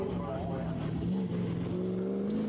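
A Camaro race car at UMI's KOTM 2026 accelerates across the infield toward the back stretch, a steady droning engine note with rising tonal harmonics, heard from a distance under a commentator's voice.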